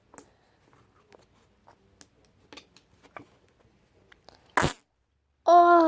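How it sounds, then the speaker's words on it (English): Black, slimy noise putty being squeezed: faint sticky ticks and clicks, then a sudden squelching burst and a loud, low, buzzing fart-like blurt at the end. "let's make the fart noises again"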